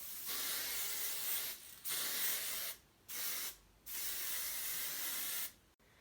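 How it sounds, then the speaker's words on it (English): Hairspray hisses out in four sustained bursts, each a second or more long, with short silent gaps between them, close and fairly loud. "Now I'm gonna give it a little bit of finishing spray."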